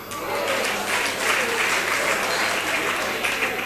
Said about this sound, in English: I know you are clapping